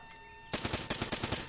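Gunfire in a PS4 shooter game: after a short quiet lead-in, a rapid burst of about eight loud automatic shots in quick succession, close and sharp, with no talk over it.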